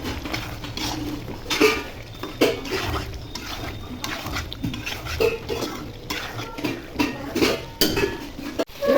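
A metal spoon stirs a bay leaf, cloves and cumin powder in a pot for a chicken and potato curry, giving irregular scraping clinks and knocks against the pot over a faint sizzle, with no voices.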